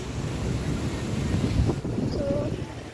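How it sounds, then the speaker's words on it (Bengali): Strong wind buffets the microphone beside open water, a loud rumbling roar that swells and eases continuously, with a faint murmur of voices underneath. "পুরো হাওয়া চলছে"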